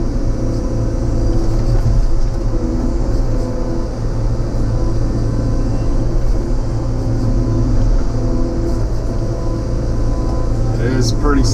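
An excavator works on a soft hillside, scooting material back, its engine a steady low drone throughout with a voice talking over it from the cab.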